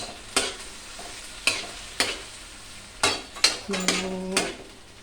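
A spoon stirring boiled mung beans into a pan of sautéed tomato and onion: loud, close metallic scrapes and clanks at an uneven pace, with brief ringing hits over a low background hiss.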